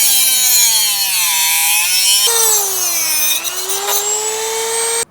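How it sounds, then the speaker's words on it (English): A Dremel rotary tool cuts through the steel frame of a GMT800 truck during a tow hook to D-ring shackle conversion, a loud, steady high-pitched whine with shifting pitch, close up and alone for about five seconds before cutting off abruptly. "I'm dremeling, and it takes a little bit of time"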